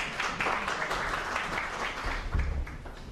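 An audience at a short film festival applauds to welcome a university dean and vice-rector onto the stage. The clapping is dense and steady throughout.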